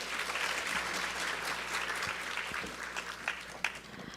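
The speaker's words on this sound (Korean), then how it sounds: "저희 장영주 수석 선생님께 다시 한번 큰 박수 부탁드립니다." A seated audience of parents at a school seminar on high school curriculum and the credit system gives a teacher a steady round of applause, dense and sustained for the whole stretch with no talking.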